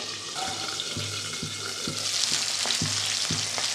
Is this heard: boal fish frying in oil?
yes